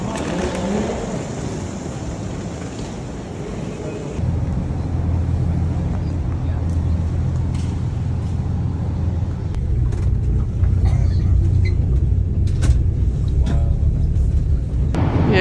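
Engine of a Venice water bus on a canal, a low steady rumble that grows heavier partway through, with wind buffeting the microphone and a few faint voices in the background.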